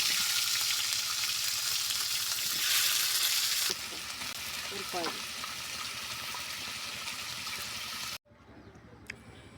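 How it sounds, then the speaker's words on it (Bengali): Jackfruit slices fry in hot oil in a wok in a village kitchen, giving a steady close sizzle that drops in level partway through and cuts off near the end. "এই যে এখন এই গরম তেলের মধ্যে কাঁড়ালের চাক্কাগুলো মেটে হয়ে"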